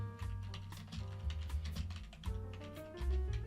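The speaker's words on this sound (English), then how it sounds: "Let's type this in." Rapid clicking keystrokes on a computer keyboard come in quick irregular bursts over a low background hum, close and fairly quiet.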